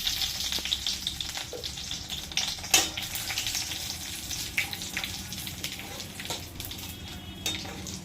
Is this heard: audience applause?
no